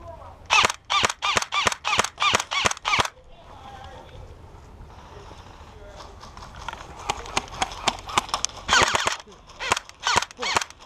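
An Evike custom airsoft M4 rifle fires during an outdoor airsoft game, giving sharp, rapid, evenly spaced bursts of shots, first alone, then after a quieter pause with voices, before another run of shots.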